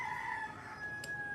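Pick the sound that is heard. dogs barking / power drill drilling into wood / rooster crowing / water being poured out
rooster crowing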